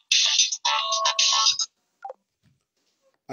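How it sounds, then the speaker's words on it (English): A mobile phone ringtone chimes loudly in three close bursts, then breaks off, leaving only a few faint clicks in the quiet that follows. "I am talking to him and his phone was ringing."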